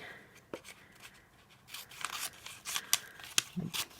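Scissors snip through an adhesive sheet laid over glimmer paper for a handmade winter birthday card, giving a few soft, close crisp cuts that grow brisker and louder toward the end, with no voices.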